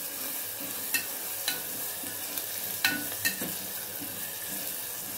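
Spices such as garam masala and turmeric being stirred into onion and tomato frying in oil, with a steady sizzle and a few sharp spoon scrapes against the pan, close and alone.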